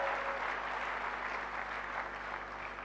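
A church congregation applauds and cheers for God, an even, sustained wash of clapping heard across the room with no pauses.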